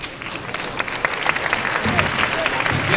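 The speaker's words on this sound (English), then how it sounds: "Give another round of applause, please," An auditorium audience claps for the finalists at the World University Debating Championship grand final, a dense, sustained wave of applause filling the room while a voice speaks over it.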